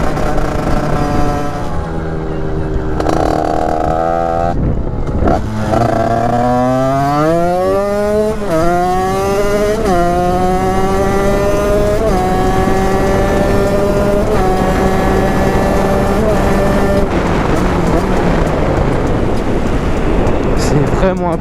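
A modified 86 TPF motorbike engine revs repeatedly, its loud buzzy note climbing and falling in waves, with a voice talking over it at times.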